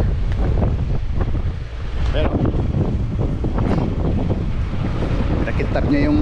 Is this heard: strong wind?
yes